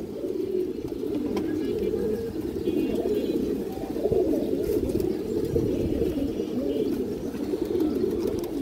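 Indian high-flyer pigeons coo continuously in low, throaty rolls, close by and fairly loud, with faint chirps above.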